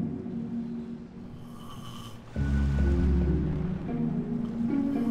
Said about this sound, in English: even his snore makes him sound like a know-it-all